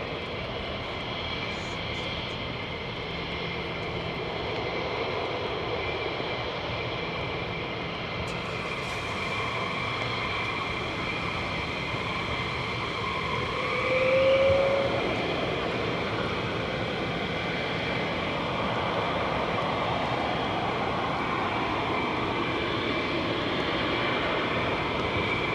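Fighter jets flying at RAF Lakenheath make a loud, steady roar that fills the whole stretch, swelling briefly near the middle, with no talk over it.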